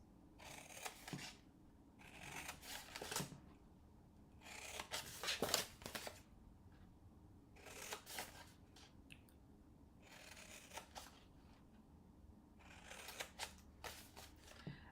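Scissors snip through paper gift box tabs in a series of short, close cutting strokes spaced irregularly, crisp and quiet with small pauses between bursts.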